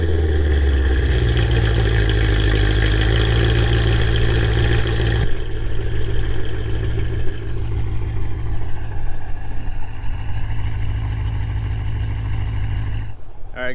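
An Audi 4.0T V8 fitted with an X-pipe exhaust idles with a deep, steady rumble that shifts partway through, a person talking over it.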